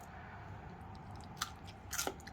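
Crunchy, juicy food chewed close to the mic, a faint steady rustle broken by a couple of short crisp crunches toward the end, with no talking.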